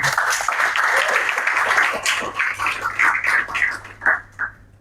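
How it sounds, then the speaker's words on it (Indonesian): A seminar audience on preventing radicalism and terrorism claps steadily, the applause thinning into scattered claps toward the end. "Boleh tepuk tangan yang meriah."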